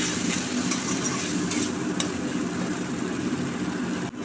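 Ground coconut is stirred as it fries in a pan, a steady dense sizzle with soft stirring scrapes running throughout, close and fairly loud.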